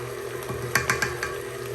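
Cajun chicken sauce sits on a low, steady simmer in a pan while a utensil stirs through it with a handful of soft scraping knocks near the middle.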